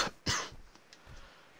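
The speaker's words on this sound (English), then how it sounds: "I am so sorry for the cough." A woman gives a couple of sharp, close coughs followed by softer throat-clearing sounds in a quiet indoor room.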